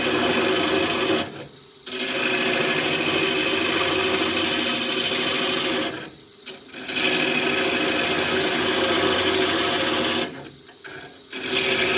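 A bowl gouge turning a cherry burl on a lathe gives a loud, steady rough scraping and whirring. It breaks off three times with short pauses as the cut lifts, then resumes, all close up with no talking.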